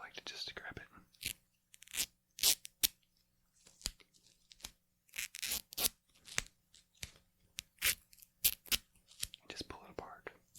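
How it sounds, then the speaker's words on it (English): Disposable medical tape is torn by hand close up, giving a run of short, sharp ripping bursts separated by brief pauses, quiet and isolated with no talking. "Some tapes are easier to tear than others."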